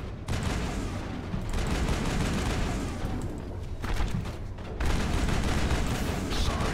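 Sustained gunfire in the video game Mass Effect 1: dense, rumbling volleys of rapid shots with heavy low booms, fairly loud, pausing briefly before resuming harder.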